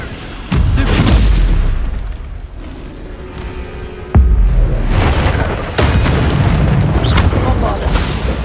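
Bombarda explosion spell in the Hogwarts Legacy video game, heavy booming blasts going off repeatedly, several loud impacts with rumbling tails and a sharp crack in the middle.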